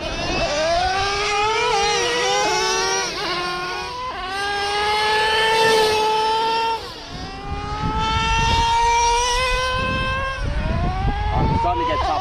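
Traxxas nitro RC truck, a Slayer Pro 4x4 or Revo 3.3, screaming at high revs with a buzzy two-stroke whine that rises and dips as it runs at top speed, continuous and fairly close, with voices talking over it.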